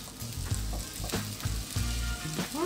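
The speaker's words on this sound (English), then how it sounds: "Let them fry on both sides for probably 3 or 4 minutes each side" Potato and onion patties sizzle and crackle in a hot pan, with a spatula scraping and tapping now and then, close and fairly quiet.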